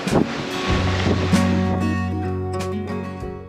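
Ocean waves wash against a sailing boat at sea in a 32-knot wind, with rushing surf and steady wind roar at full level throughout.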